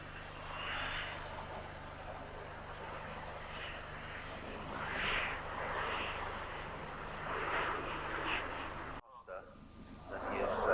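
An Avro Vulcan bomber passes at an airshow, its engine roar swelling and easing in the distance over steady background noise, with commentary heard over it before a short drop-out.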